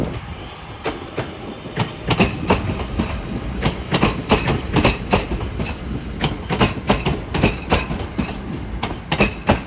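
A train passes at Crewe on the West Coast Main Line, close and loud, with a steady run of rhythmic clickety-clack wheel beats over rail joints and a rolling rumble underneath.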